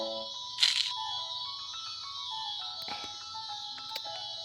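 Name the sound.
mobile phone ringing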